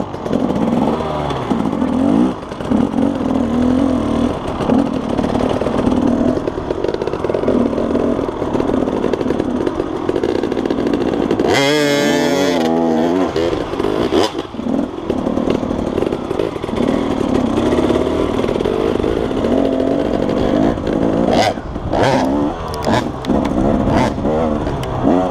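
A motorcycle engine runs through a riding school clutch drill, droning steadily close by with uneven revving and a brief sharp change partway through, while people talk over it.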